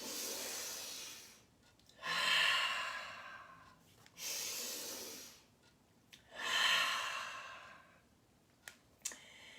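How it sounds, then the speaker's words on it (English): Slow, deep breaths during a yoga practice, with four long airy exhales and inhales in a steady cycle, close and clearly audible, separated by quiet gaps, then a couple of faint clicks near the end. "Nice big inhale up. Exhale. In."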